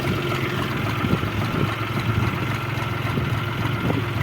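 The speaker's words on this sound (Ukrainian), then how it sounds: "Моторчик працює рівномірно" An MTZ tractor engine idles steadily and evenly up close, a continuous low mechanical drone with no talking.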